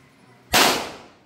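A single Beretta 92FS pistol shot at a firing range, one sharp loud crack with a short decaying tail, close and isolated.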